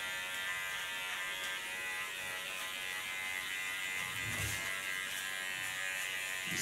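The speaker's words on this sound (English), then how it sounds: "Put my blade to the back, put it in a collar position, leaning on the left side of my clipper blade." Electric hair clipper trimming along the nape at the collar line, a steady faint buzz with slight changes as the blade moves over the skin, no talk.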